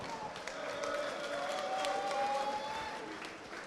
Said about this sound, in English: a round of applause for our championship fighters